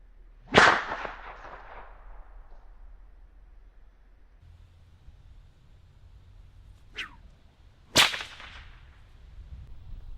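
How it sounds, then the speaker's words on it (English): A bullwhip cracks through the air three times, each a sharp, loud snap against a quiet background, the first and last strongest and a softer one between them, with long pauses in between. "that crack sound you hear is actually the air clapping back together as the whip has extended"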